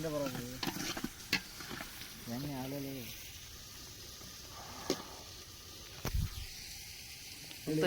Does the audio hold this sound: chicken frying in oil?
yes